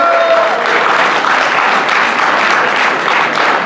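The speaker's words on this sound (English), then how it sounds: "we'll give them a round of applause" Sustained applause from a school assembly audience recognizing students, a dense, steady wash of many hands clapping throughout with a faint whistle early on.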